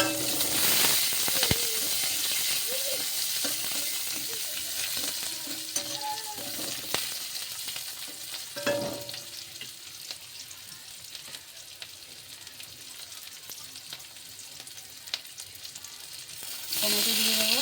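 Onions fry with a bay leaf in a pan while being stirred: a continuous close hiss and crackle with occasional scraping strokes, slowly easing in level, and no voices.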